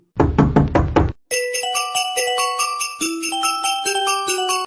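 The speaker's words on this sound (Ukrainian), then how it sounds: "Хто це стукає до нас?" Several quick knocks rap on a door in a short burst, followed by a bright, tinkling jingle of chime-like tones during a stage performance at a festival.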